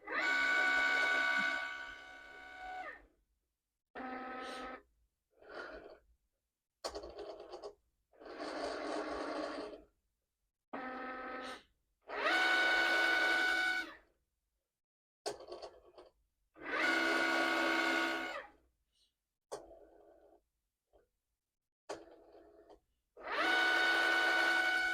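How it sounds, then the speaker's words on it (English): Cricut Explorer cutting machine slicing a paper calibration sheet, its carriage whirring in repeated bursts of a few seconds each, separated by brief pauses, close and moderately loud with no talk. "So you can see the Cricut machine is cutting"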